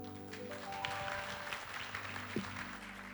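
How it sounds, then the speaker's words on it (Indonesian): A church congregation claps together at a Sunday service, a faint, diffuse patter of applause over a low sustained musical hum. "kita berikan tepuk tangan sekali lagi buat Tuhan Yesus yang luar biasa."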